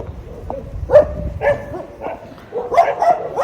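Several neighbourhood dogs keep up a chorus of barking and yipping at mid distance, uneven and overlapping, moderately loud with a murky background.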